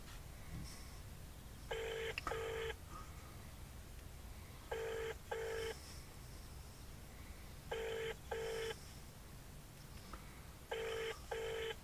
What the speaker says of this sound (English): he doesn't seem to answer the phone very often, does he?